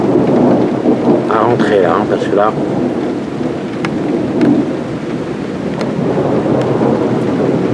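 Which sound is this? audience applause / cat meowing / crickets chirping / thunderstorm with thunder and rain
thunderstorm with thunder and rain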